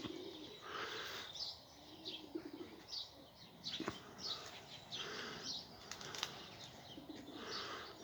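Pigeons coo softly in the quiet early morning, faint and some distance off, among repeated high bird chirps and occasional wing flaps.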